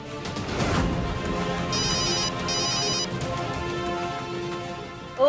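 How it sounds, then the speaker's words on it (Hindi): A mobile phone rings from somewhere below in a home scene, a repeating electronic ringtone in bursts over background music, with no talk during the ring. "यहाँ नीचे से फोन की आवाज आ रही है"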